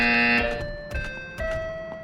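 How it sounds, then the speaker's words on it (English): A loud electronic buzzer tone sounds for about half a second at the start, then shorter tonal beeps and clicks follow, with a brief higher pitched tone near the end. "You will hear a buzzer."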